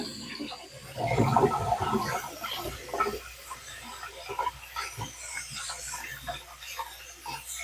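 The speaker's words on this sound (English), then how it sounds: "rinsing the rice" Rice being rinsed by hand under running water in a kitchen, with the grains swirling and sloshing. There is a louder burst of splashing early on, then softer, intermittent swishing and dribbling.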